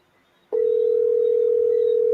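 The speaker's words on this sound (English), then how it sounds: "Devon, answer your phone, Devon" A steady, loud phone tone from a call waiting for an answer starts abruptly after a brief quiet moment and holds without a break to the end.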